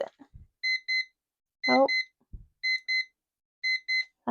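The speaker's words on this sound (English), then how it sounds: "that's my timer." A kitchen-style timer alarm beeps in four evenly spaced bursts of quick double chirps, clear and fairly near, with a brief spoken exclamation between them.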